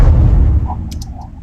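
A kick drum sample fired by Slate Trigger hits hard and loud at the start, a deep booming thud whose low-end tail fades over about a second, followed by a few faint higher clicks.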